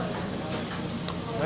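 Meat frying in a hot pan, a steady dense sizzle filling the whole moment at close range with an even, unbroken crackle.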